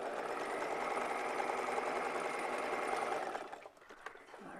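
A sewing machine stitching along the outer curve of a Japanese knot bag handle, whirring steadily and close for about three seconds before stopping, followed by light handling clatter.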